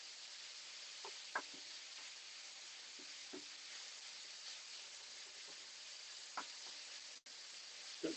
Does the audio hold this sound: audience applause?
no